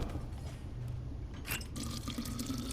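Water trickles and drips into a small bottle in the video game Tails of Iron, a short, quiet filling sound with splashy bursts over a steady low background.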